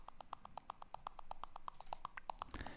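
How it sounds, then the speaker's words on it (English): Clicky percussion in the outro of a melodic techno track: a quick, even stream of small, bright ticks with a ping-pong delay echo, faint and steady, with a brief noisy wash near the end. "Then we have this clicky percussion here going on."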